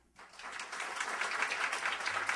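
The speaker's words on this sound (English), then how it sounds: "If you think her story is true, clap really loud" An audience at a story slam bursts into applause after a brief quiet start, a dense, even wash of clapping that holds steady for a couple of seconds, moderately distant and without talk.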